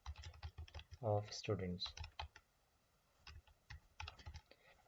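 Clicky keystrokes on a computer keyboard while text is typed into a table in a word processor, irregular bursts of taps nearby, with a brief spoken phrase partway through.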